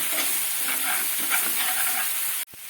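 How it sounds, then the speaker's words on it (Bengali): A mix of spices with a splash of water sizzling in a pan over a medium gas flame for an egg dish, a loud continuous hiss and frying crackle that cuts off abruptly near the end. "আমি এখানে এবারে একটু মশলাগুলো সব মিশিয়ে নিচ্ছি"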